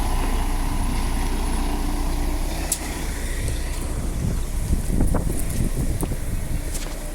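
Steady roaring wind buffets the microphone throughout at a bus and train area in Mandurah, Western Australia, with a low rumble of traffic blended underneath and no voices.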